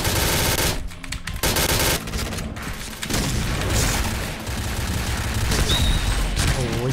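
Rapid automatic gunfire from a shooting video game, loud and continuous bursts with brief gaps and mechanical clatter, heard with a voice talking over it.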